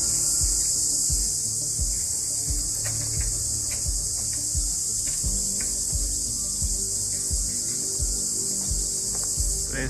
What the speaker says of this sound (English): intense sound you can hear is the cicadas in the trees.